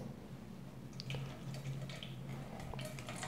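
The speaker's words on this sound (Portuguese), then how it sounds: "Então você vai apertando para retirar o excesso de água" Water dripping and trickling from soaked bulgur wheat pressed in a sieve, with scattered soft drips and splashes over a steady low kitchen hum, close and faint.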